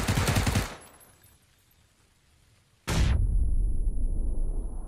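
A grenade bursts amid rapid gunfire in the battle royale game PUBG: a dense roar of shots cuts off abruptly, followed by near-silence, then a sudden loud blast that rolls on with a broad, rumbling tail.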